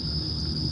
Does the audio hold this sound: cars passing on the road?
no